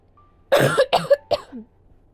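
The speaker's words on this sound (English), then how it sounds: "Had to cough." Three sharp coughs in quick succession, close and fairly loud, with a softer throat sound trailing after, and no talking.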